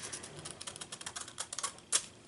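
Material being trimmed for an adhesive craft project, heard as a quick run of close, light snipping clicks that speed up and end in one sharper cut.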